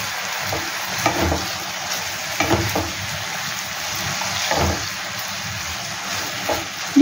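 Mutton liver and potatoes fry in a pan over a high gas flame, a loud continuous sizzle broken by several bursts of scraping and stirring, with no talk.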